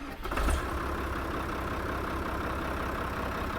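A tractor engine turns over and settles into a steady, loud, continuous idle close by, its low rumble running unbroken to the end with no talk.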